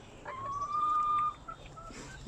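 Backyard hens in a shed coop giving a drawn-out, rising cluck followed by a few shorter calls, close by and fairly clear over quiet surroundings.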